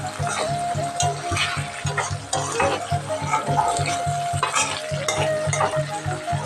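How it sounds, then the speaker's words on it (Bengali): Tilapia being sautéed on low flame in a pan with tomato for a Bengali paturi dish, giving a steady sizzle with repeated rhythmic scraping and stirring strokes of a utensil against the pan. "আমি লো ফ্লেমে মাছটাকে ভালো করে কষিয়ে নেব।"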